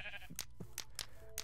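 Sheep bleating in the video game Minecraft: a few short, close bleats spaced apart, with light clicking game sounds in between and no talking.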